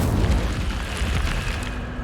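A fire spell cast in Hogwarts Legacy: a deep, sustained booming roar with a fiery rush that fills the whole two seconds at steady loudness, with no voices.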